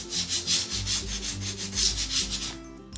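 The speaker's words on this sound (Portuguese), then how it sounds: "Vou começar com uma lixa grossa" Coarse sandpaper rubbing back and forth over a painted MDF sign, a steady series of close, loud rasping strokes in an even rhythm.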